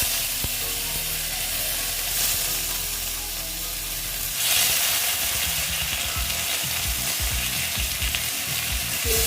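Onion fries in hot oil in a pan with a loud, steady sizzle. Scraping stir strokes become more noticeable in the second half, heard up close with no talking.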